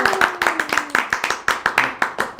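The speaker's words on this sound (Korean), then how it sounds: "박수!" A small group claps in quick rhythmic bursts at a Korean business consulting talk show, about a dozen sharp, close hand claps in a brisk beat, with a voice faintly underneath.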